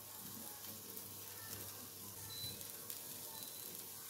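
Brisket frying in a pan gives off a faint, steady sizzle, with a few soft clinks and scrapes over it.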